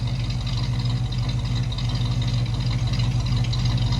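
A 1957 Chevy with its original motor and carburetor runs steadily at close range, a dense low idle with a constant rumble and no break, heard alone.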